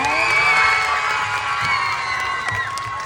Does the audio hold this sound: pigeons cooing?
no